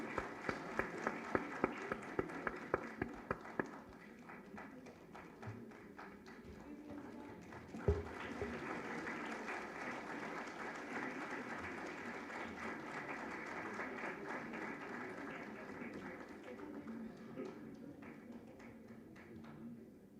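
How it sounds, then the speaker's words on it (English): Audience in a hall at an ICFAI women's programme breaks into a long round of applause, a dense, steady patter of many hands clapping that swells after a few scattered early claps and holds to the end. "A big round of applause for ma'am,"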